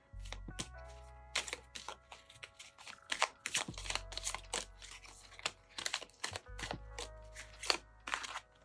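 Tarot cards from an advice deck are shuffled and drawn, giving a run of quick, crisp papery slaps and riffles in irregular bursts, fairly quiet and close, with no voices.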